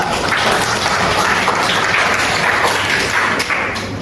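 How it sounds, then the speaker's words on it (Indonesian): Steady, dense clapping from a classroom group fills the whole stretch at an even loudness, with no voices breaking through. "Tepuk tangan"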